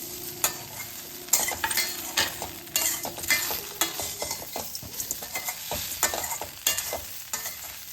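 Wheat-flour masala kozhukattai balls mixed in a hot pan, with frequent clattering scrapes and knocks of a spoon over a soft sizzle, close and busy.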